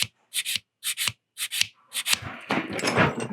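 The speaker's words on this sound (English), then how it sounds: "I'm just going to lightly start with the sanding stick" A sanding stick rubs over a resin model kit part in short, crisp strokes, about six separate scratchy passes, then a longer continuous stretch of rapid rubbing, close and fairly loud.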